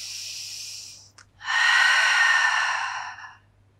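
Two deep, audible breaths during an intermediate Pilates mat session: a short airy breath, a brief pause, then a longer, louder exhale lasting about two seconds, close and breathy with no talking.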